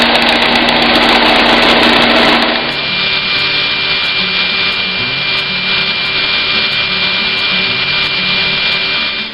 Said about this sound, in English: There's also a new belt on the belt sander, so that should be nice.